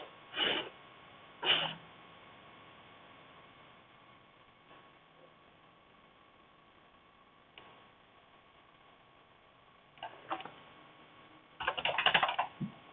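Typing on a computer keyboard while writing code comes as sparse bursts of close key clicks, with quiet gaps and a busier flurry near the end.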